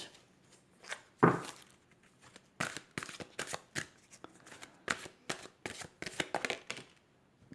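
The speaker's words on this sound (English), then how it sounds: "we're going to get another angel card" Angel cards being shuffled up close: rapid bursts of papery riffling and slapping, repeated in quick, uneven runs with no voices.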